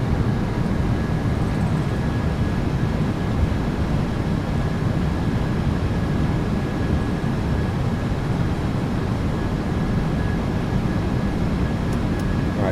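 Simulated PMDG 737-800 rolling out after touchdown in MSFS2024 with thrust reversers deployed, a steady, dense roar of engine and rumble holding constant and loud throughout, with no voices.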